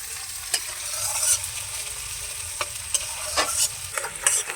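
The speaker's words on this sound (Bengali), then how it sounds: "পেঁয়াজটাকে আমি কিছুক্ষণ ভেজে নিলাম" Onion frying lightly with tempering spices in a pan, a soft steady sizzle with occasional scrapes and taps of a spatula stirring, close and fairly quiet.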